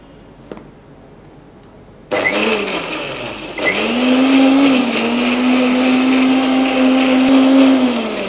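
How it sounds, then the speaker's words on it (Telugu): After a quiet start with a couple of clicks, a mixer grinder blending mint and kiwi juice switches on loudly, whirring at a steady high pitch and settling into a constant blending roar. "ఇప్పుడు దీన్ని మనం మిక్సీ ఆడించుకోవాలి"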